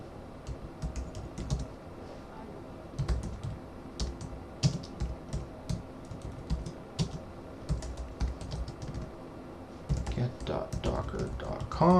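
Close computer keyboard typing while setting up Docker Swarm nodes, with irregular bursts of key clicks and clacks, brief pauses, and a faster flurry near the end.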